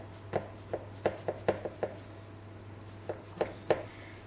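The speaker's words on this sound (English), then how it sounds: "So I'm going to cut it in 4th lengthways." A knife slices through baklava in a pan, lengthwise down to the bottom, giving a run of short, crisp crunching cuts in irregular clusters, close and fairly quiet, with no talking.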